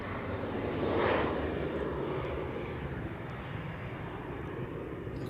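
A jet airliner takes off at Manchester Airport, a loud, steady engine roar with a broad rushing swell early on that holds strong through the whole clip, close and continuous with no talk.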